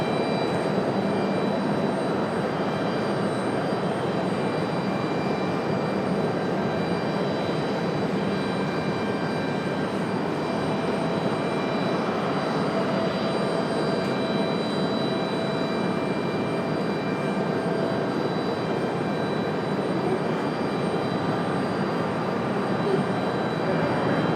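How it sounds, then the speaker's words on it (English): A Boeing 767 jet airliner at Raleigh-Durham International Airport gives off a steady, continuous jet-engine roar that holds at an even loudness throughout without pause. "Been a while since we've seen a 767 on the show here at the airport."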